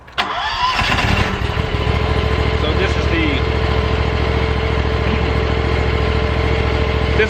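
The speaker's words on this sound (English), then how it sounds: "I'll just go ahead and start the engine now for you." A Ferris ISX2200 zero turn lawnmower engine cranks and catches, then settles into a loud, steady idle close by, with a person briefly speaking over the start.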